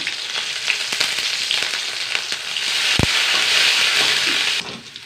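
Garlic, shallots, dried chillies and curry leaves sizzling in hot oil for a curry: a loud, dense, continuous crackling hiss up close, swelling slightly before dropping off at the end, with one sharp knock partway through.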